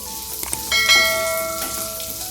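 Moong dal fries in a pan until golden, giving a steady close hiss and crackle with a faint ringing tone running underneath and a slight swell partway through.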